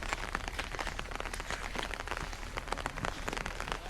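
Steady rain falls and patters on surfaces in a dense, even hiss throughout, with no voices over it.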